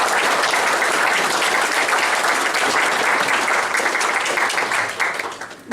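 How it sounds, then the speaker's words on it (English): Audience applause at a campaign launch event, a loud, sustained wash of many hands clapping that holds steady and then starts to thin out near the end. "A big round of applause for Herman and doing a fantastic job"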